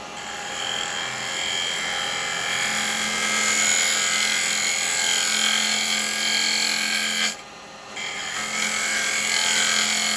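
A lathe cutter turning a spalted beech lidded box, a steady close whirring drone with a hum, which drops out briefly near the end before resuming.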